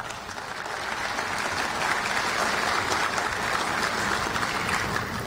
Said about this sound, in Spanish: Recibamos a Frank con un muy fuerte aplauso.